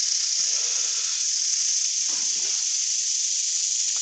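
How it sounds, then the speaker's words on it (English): A Simon Hope inertia sander works a crackle-effect wooden bowl on the lathe, giving a steady, unbroken high hiss that holds level throughout with a few faint low scuffs and no talking. "inertia sander"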